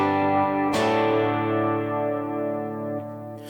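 An electric guitar runs through a Line 6 HX Stomp with delay and reverb, ringing sustained chords that bloom and trail off in a wide, spacious wash, with a fresh strum partway through and another near the end.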